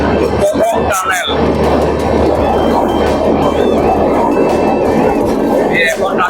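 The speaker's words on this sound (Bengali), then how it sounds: "আমাদের ট্রেন ফার্স্ট টানেলের ভিতরে প্রবেশ করলো" An express passenger train rumbles through a mountain tunnel, a loud, dense and continuous roar of wheels and carriage noise, with people talking and calling out over it.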